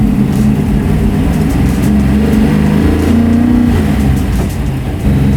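A 700-horsepower big-block V8 in a 1964 Ford Galaxie revs and rumbles loudly from close by. The deep throb swells and eases several times without a break, and no one speaks.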